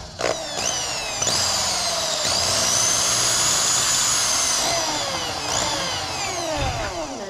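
A power drill whines steadily at high pitch, rising and dipping as it bites in, with brief stops and restarts over several seconds.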